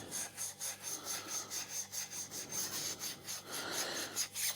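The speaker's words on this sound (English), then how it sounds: "I think we'll just get a little bit of wire wool." Wire wool rubs briskly over a bicycle crankset and bottom bracket area to clear off muck, a close, steady scratchy rasping in quick repeated strokes with no talking.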